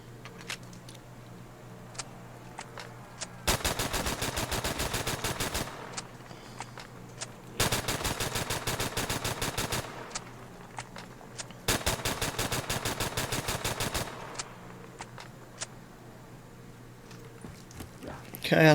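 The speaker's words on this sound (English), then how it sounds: "We're just going to be in a little bit of a pickle if we run out of bullets in our MP40." MP40 submachine gun firing in Black Ops 3 custom zombies, three long sustained bursts of rapid automatic fire, each about two seconds, loud and close over a low game backdrop with someone talking.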